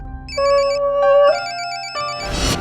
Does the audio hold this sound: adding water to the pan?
no